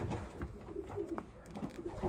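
A racing pigeon that has just flown home from the Blue Angel Classic race coos softly and repeatedly in a loft, the low murmuring calls rising and falling over about two seconds.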